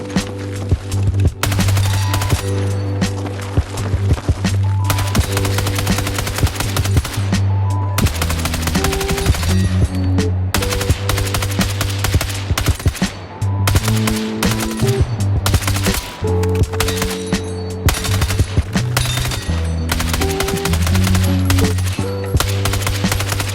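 Rapid bursts of automatic fire from the B36A4 rifle on a Battlefield 6 test range, loud and close, with repeated strings of shots separated by short pauses over a steady low hum.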